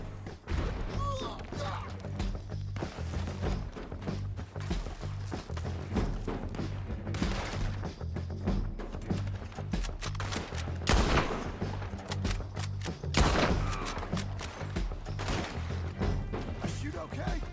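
Rapid gunfire bursts in the Red Dead Redemption 2 video game, dense volleys of shots cracking repeatedly over a droning music bed, loud and continuous with brief lulls.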